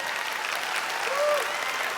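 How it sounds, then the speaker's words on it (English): A motivational talk audience claps together in a steady, moderately distant wash of applause, with a faint tonal whistle or feedback briefly rising over the clapping. "When you hear someone clap, clap with them."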